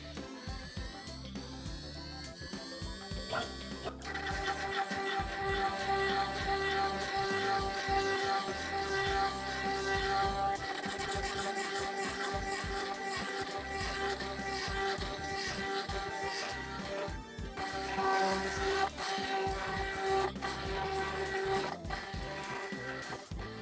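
A CNC router spindle spins at about 12,000 RPM on a 200 hertz drive while feeding at 100 inches per minute, giving a steady loud mechanical whine with layered tones that runs the whole time with no talking.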